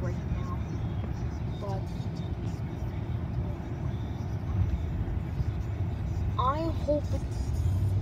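Heavy road traffic gives a steady, dense rumble of passing cars and larger vehicles that never lets up, with a voice speaking briefly over it.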